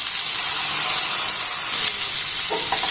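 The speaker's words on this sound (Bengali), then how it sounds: "এবার সবজিগুলোকে একটু নাড়াচাড়া করে ভেজে নেব" Chopped beans and cauliflower frying in a pan, a steady loud sizzling hiss close up with a few faint clinks near the end, no talk.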